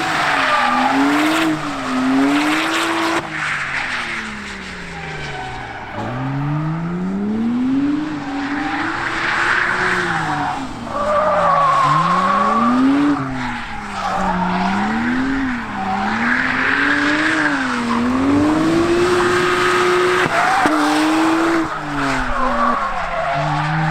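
A drift car with a Nissan SR20 engine slides around the Lurcy-Lévy race circuit at a French Drift Community track day. The engine revs rise and fall in sweeping waves, with screeching tires over a loud, continuous roar and no talking.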